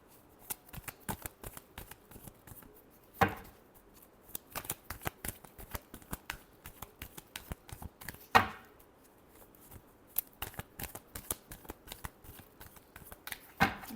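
Tarot cards being shuffled close by, a quiet run of rapid papery riffling clicks with a few louder sharp snaps as the deck is bridged and squared.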